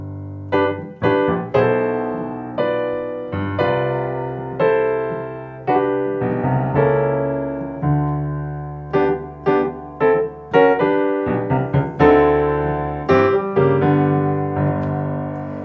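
Solo piano plays the second A section of "Joyful, Joyful" in gospel style, with full, ringing chords and melodic runs that rise and decay in clear phrases for about sixteen seconds.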